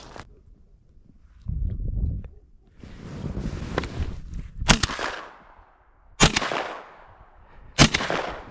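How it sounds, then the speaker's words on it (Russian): Three sharp hunting-rifle shots crack out during an outdoor hare hunt, spaced a couple of seconds apart, each followed by a short decay, with wind and rustling noise between them. "3 выстрела сделал"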